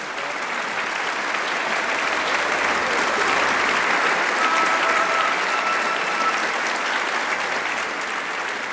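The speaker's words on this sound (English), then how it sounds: "Lots of applause" A live audience applauds warmly after an opera aria from Saint-Saëns' Samson and Delilah, a dense, sustained wash of clapping that stays loud and even throughout.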